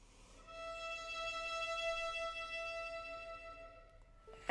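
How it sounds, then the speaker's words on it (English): A violin holds a single sustained note with small, very fast vibrato, a clear rich tone swelling gently and then fading, played alone for about four seconds. "So you can play very small movements, very fast, for example."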